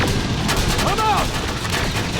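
Heavy gunfire in the video game Terminator: Resistance, a loud steady stream of rapid shots throughout, with a short voice-like sound in the middle.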